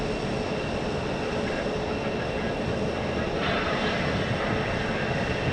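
A WestJet airliner roars steadily overhead at Phoenix airport, its broad engine noise holding level with a slight rise near the end, and no voices over it.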